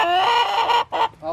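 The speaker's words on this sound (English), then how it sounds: "Oh, chickens." A chicken clucks loudly up close in a drawn-out, squawking call, followed by two shorter clucks.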